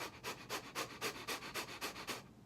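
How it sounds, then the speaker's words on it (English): Rapid breathing exercise: a person takes quick panting breaths, about a dozen rhythmic huffs in a steady fast pulse, close to the microphone, then stops. "we want to do this breathing technique and do a rapid breathing technique"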